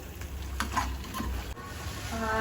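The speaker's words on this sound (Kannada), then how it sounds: "ಈ ಮಸಾಲೆ ಜೊತೆಲಿ ಉಪ್ಪು ಖಾರ ಚೆನ್ನಾಗೆ ಚಿಕನ್ ಹಿಡೀಲಿ, ಬೇಯಲಿ" Chicken with salt, chilli and fresh masala fries in a pan under a steady close sizzle, with occasional spoon scrapes and knocks as it is stirred, and no voices.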